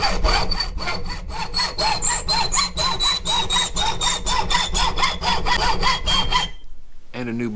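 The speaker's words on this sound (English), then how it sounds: "when you put your hacksaw blade in is have the teeth aiming back towards you. You have more control of the cut." A hacksaw cuts through copper in steady back-and-forth strokes, a close metallic rasp repeating about three times a second with a faint ringing whine, then stopping abruptly near the end.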